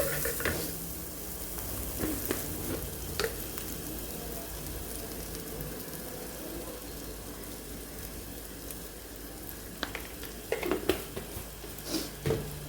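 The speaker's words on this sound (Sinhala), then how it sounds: "මේ ටික දැන් හොඳට බැදීගෙන එන්නේ" Food sizzles in a pan as it is stirred for a home-cooked lunch. A constant crackling fry runs underneath, with scattered scraping and clinking stir strokes rising near the start and again toward the end.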